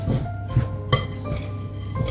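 Granola being stirred with coconut oil in a bowl, a steady scraping mix with a few sharp clinks of a utensil against the dish, close and fairly quiet with no talking.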